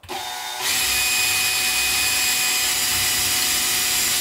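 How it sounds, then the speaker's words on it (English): A power drill bores a hole into a wall where a TV and furniture anti-tip anchor strap will mount, starting with a brief whir and then running loud and steady close by, with no talking. "now I'm just gonna drill a hole in the wall."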